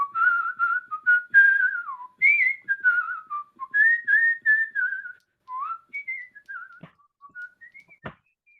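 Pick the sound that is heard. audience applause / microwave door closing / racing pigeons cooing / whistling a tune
whistling a tune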